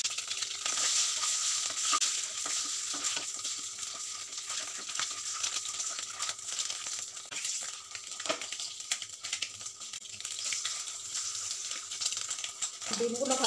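Eggs frying in hot oil with a pinch of turmeric and salt, giving a steady, fairly quiet sizzle with faint crackles that runs the whole way through.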